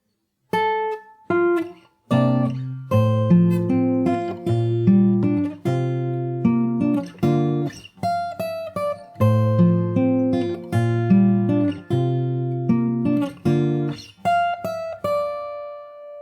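A plucked fingerstyle guitar plays the Animal Crossing New Horizons theme melody over a bass line, the phrase repeating, with notes ringing clearly and no talking.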